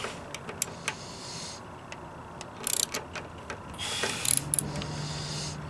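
A ratchet snugs 5/16 bolts on a church lawn mower with quiet, close clicking in short irregular runs over a faint steady background hum.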